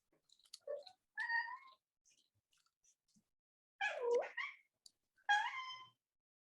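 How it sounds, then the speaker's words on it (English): A kitten meows in a quiet office, several short distinct meows spaced out with gaps of silence, fairly faint and in the background. "that's one of my office kittens in the background"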